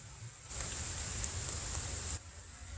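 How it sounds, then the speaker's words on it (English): Heavy rain pouring down outside, a soft hiss of falling water that swells for a couple of seconds, then drops back to a quieter patter. "You can even see that it's raining very hard."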